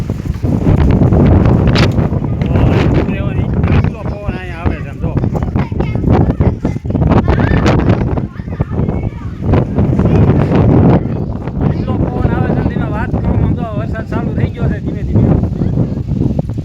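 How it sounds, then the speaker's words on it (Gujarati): Strong gusty cyclone wind roars and buffets the microphone in a village, raising dust, while people talk over it, loud and continuous throughout. "તો વાવાઝોડું અમારા ગામમાં પહોંચી ગયું એમ જો"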